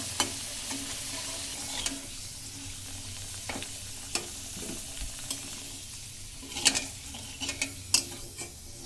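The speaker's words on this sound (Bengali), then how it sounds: "এপাশ ওপাশ করে আলুটাকে সুন্দর করে ভেজে নিব।" Potato pieces sizzle steadily in hot oil for a village-style chicken curry, while repeated sharp spatula scrapes and clicks come as the pieces are turned, growing busier near the end.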